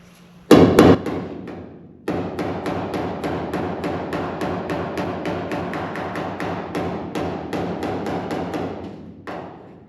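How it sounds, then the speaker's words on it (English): A cross peen hammer strikes the steel body panel of a 1955 Nomad: one hard blow first, then after a pause a rapid, even series of ringing metallic taps, close and loud. "I'm just turning the hammer sideways with the cross pin."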